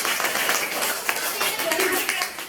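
Classroom students clap together for a classmate's correct answer, a dense, fairly steady patter of hand claps lasting a couple of seconds with faint voices mixed in.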